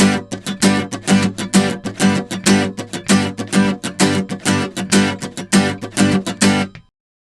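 Rhythmic guitar strumming, a steady pattern of bright chords in quick down-up strokes, close and clear, ending abruptly.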